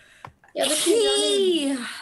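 A single loud, close sneeze during a horror game session, following brief quiet sounds, a sharp burst with a strained voiced tail lasting over a second.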